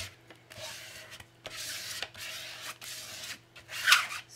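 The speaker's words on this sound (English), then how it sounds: "Just really using this card to burnish it down, make sure I've smoothed out." A plastic card is rubbed firmly over a paper cover glued onto a handmade journal, producing repeated dry scraping strokes, close and fairly quiet, with brief gaps between passes.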